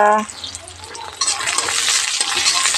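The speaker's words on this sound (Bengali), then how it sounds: "এই যে পেঁয়াজটা ভেজে নিচ্ছি দেখো বন্ধুরা" Onions fry with bay leaf in hot oil in a pan, a loud close sizzle that swells after a short spoken phrase and then crackles steadily.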